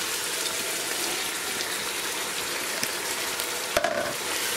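Prawns fry in a pan for prawn biryani, giving a steady, close sizzling hiss throughout with a faint clink near the end.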